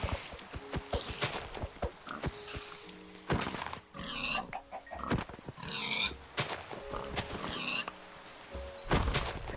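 Pigs oink in the Minecraft video game, several short grunting snorts scattered irregularly over a few seconds amid other game noises.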